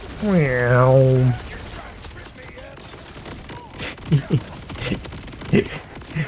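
Borderlands 4 flamethrower gameplay with a burst of rapid crackling gunfire at the start, followed by scattered muffled pops and bursts of explosions under a voice.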